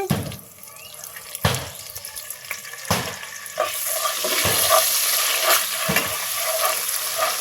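Two tablespoons of ginger garlic paste fry in hot oil, crackling and sizzling steadily up close while a spatula scrapes and stirs in regular strokes, the frying growing louder and more even.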